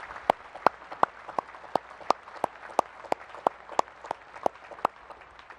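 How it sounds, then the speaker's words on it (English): Applause for graduates and the Naval Academy Band at a ceremony, heard as sparse, evenly spaced sharp claps, about a dozen crisp single hits in steady rhythm over a quiet room murmur. "How about a round of applause for all those folks?"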